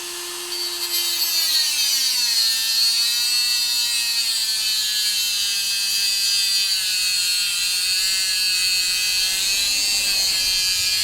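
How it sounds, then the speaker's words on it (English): Dremel rotary tool with a cutoff wheel slicing through a Corvette car antenna, a loud continuous high-pitched whine and grinding hiss held steady for the whole stretch, its pitch sagging slightly as it bites. "I've just got a cutoff wheel on my Dremel, and we're just going to Dremel this really quick"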